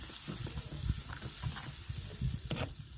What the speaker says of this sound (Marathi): तेल सुटेपर्यंत मसाला तळून घ्यायचा आहे आपल्याला